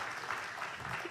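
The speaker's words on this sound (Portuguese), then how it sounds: "Uma salva de palmas para Jesus então." A church congregation clapping in praise during a service, a quiet, steady wash of applause from a crowd heard from some distance.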